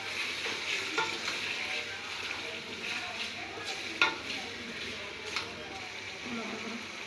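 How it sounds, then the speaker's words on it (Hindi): Masala is stirred into chana pulao in a hot pan, a continuous close sizzle with occasional soft scrapes of the spoon, while a person talks over it. "इसको हम मिक्स करेंगे अच्छी तरीके से।"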